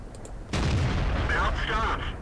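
Artillery fires in World of Tanks: after a quiet opening, one sudden loud boom breaks in and rolls on as a heavy rumbling tail, with a voice faintly under it.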